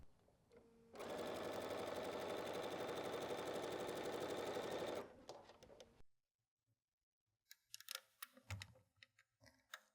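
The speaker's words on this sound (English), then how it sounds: "let me go ahead and get that sewn" A sewing machine stitches fabric pieces together in a steady, fast mechanical whir for about four seconds, then slows and stops, followed by quiet handling clicks of the fabric.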